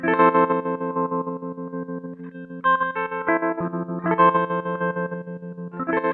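A guitar through a BOSS SL-2 Slicer pedal plays a continuous, rhythmically pulsing pattern with a filtered, wavering tone and slight echo, loud and steady throughout.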